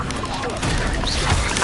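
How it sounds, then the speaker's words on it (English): A Stupefy spell is cast in Hogwarts Legacy, a short, loud crashing burst of broadband impact noise set in dense game sound, with a voice present. "Stupefy."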